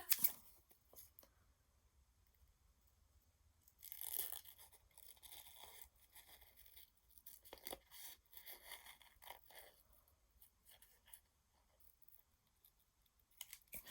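Scissors snip through paper for a tessellation design in a quiet room: a short burst of cuts at the start, then irregular crisp snips and scraping strokes that come and go, closing with a final sharp cut.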